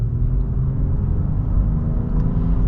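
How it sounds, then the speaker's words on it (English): A 2022 Acura MDX with a V6 engine accelerates partially, giving a steady low engine rumble and road noise from inside the cabin, moderately loud and without talk over the short stretch. "We'll get a partial acceleration here."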